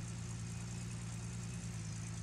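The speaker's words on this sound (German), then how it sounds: "Wir fahren jetzt hier oben mal hin. Ich hoffe, dass das richtig ist." Pickup truck engine in the video game Gold Rush, driving uphill with a steady, low droning rumble that holds constant throughout, no voices.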